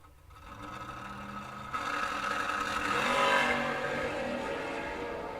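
Two door cars launch side by side at a drag strip, a Mickey Racing Chevy Nova against a 1969 Plymouth GTX, their engines rising into a loud, steady full-throttle roar that builds and holds.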